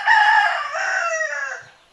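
A rooster crows loudly and close by in one long, drawn-out call that fades at the end, with no talk over it.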